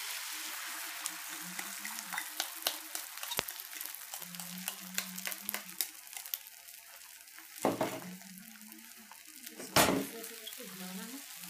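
Beaten egg and bread fry in oil in a pan over a low gas flame, a soft crackling sizzle broken by sharp scraping and clinking of a utensil stirring, with a voice speaking at times.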